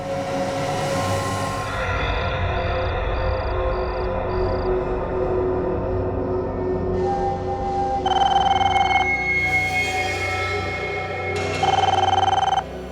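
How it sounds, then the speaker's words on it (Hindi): Telephone ringing at night in a residential flat, a repeated electronic ring heard in bursts over a low hum and dramatic background music, no talking. "किसका फोन हो सकता है?"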